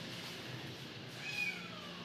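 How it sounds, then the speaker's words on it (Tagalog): A cat on the grounds of a church in Ilocos meows once in a short, high, drawn-out call, fairly faint and alone over quiet outdoor background. "this cat is crazy."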